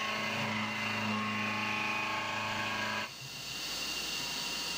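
A CNC mill makes a profile pass on an AR15 gas block, a steady whining hum of machining with a noticeable shift in tone partway through, continuous and fairly close.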